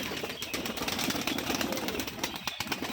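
Pigeons, including a white one, on the ground at a Rajshahi pigeon loft, give continuous close cooing with brief wing flaps over a dense, busy flock backdrop.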